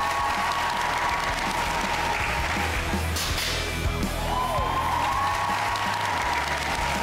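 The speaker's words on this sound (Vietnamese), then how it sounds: "xin mời quý vị hãy dành một tràng pháo tay để tán thưởng cho cả năm quý ông hoàn hảo của chúng tôi" A crowd at the 2018 final of a male pageant applauds its five finalists, a loud, steady wash of clapping that mixes with crowd noise and background music throughout.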